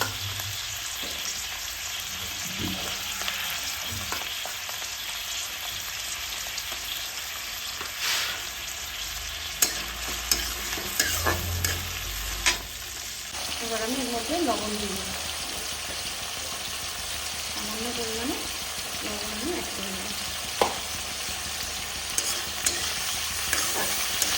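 Prawns fry in a pan for mixed fried rice, a continuous close sizzle with repeated stirring scrapes and clinks, and a few short louder knocks, no voices.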